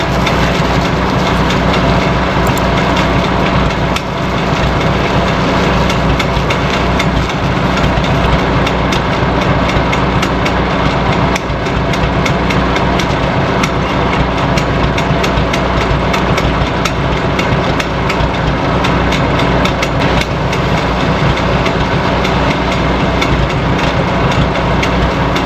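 A Farmall H tractor engine runs steadily and loudly at idle on a small farm, a dense, continuous low rumble with no break for the whole stretch and no one talking over it.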